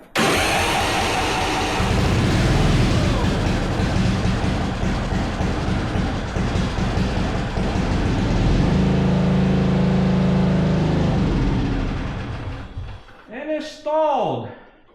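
A Yard Machines 638 RL lawn mower engine fires up and runs loudly and steadily close by, then sputters and dies out near the end, followed by a few brief voices.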